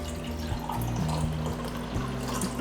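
Cold brew Mocha Java coffee poured from a container into a cup, a steady close trickle of liquid lasting a few seconds with shifting pitch as the cup fills, no talking.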